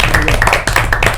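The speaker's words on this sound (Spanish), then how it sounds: "un aplauso para los chiquillos" Applause for a group of young cyclists on a ride through the Andean Araucanía, a short burst of close hand clapping with voices talking over it.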